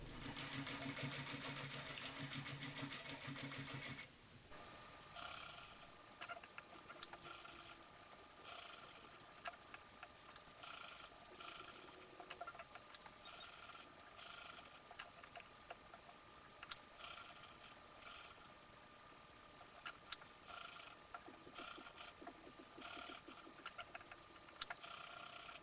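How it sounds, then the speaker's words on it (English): A sewing machine stitching a medieval hood to its mantle, running in steady mechanical bursts with short pauses between them, close by and fairly quiet. "sew the hood to the mantle with 5/8" seam allowance all the way around, reinforcing your stitching several times at the center front."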